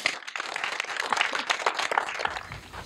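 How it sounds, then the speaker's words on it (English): An audience at a movie premiere claps for about three seconds, a dense, lively patter of many hands at steady strength that thins slightly near the end. "You should all give yourself a big round of applause."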